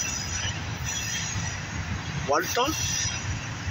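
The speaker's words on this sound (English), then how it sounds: "I did not expect this locomotive to come" A freight train locomotive rolls past in El Paso, Texas, with steady loud rumbling and a brief wheel squeal or horn-like wail, while someone talks over it.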